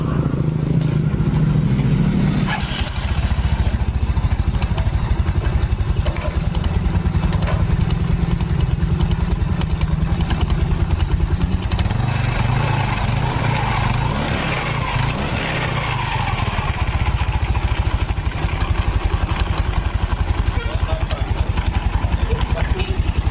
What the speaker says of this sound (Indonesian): Nah ini kondisi stasionernya terlalu kecil, langsamnya terlalu kecil, makanya terdengar ngebanting kayak gini ya